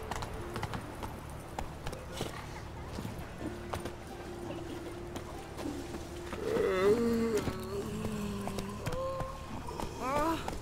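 Horse hooves clip-clopping at a trot in The Witcher 3 open-world game, a steady rhythm under background music, with a rider's voice calling out commands.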